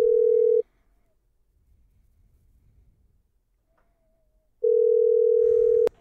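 A telephone being dialed to a Red Lobster restaurant gives a steady electronic dial tone, which cuts off into near silence and then returns for another stretch, ending with a small click.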